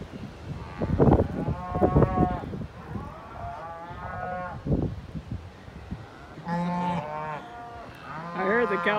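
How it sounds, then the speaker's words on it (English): Cattle bawl during a snowstorm as they come in, several loud drawn-out moos from more than one animal, some close, with wind noise underneath between calls. "I heard the cows bawling first"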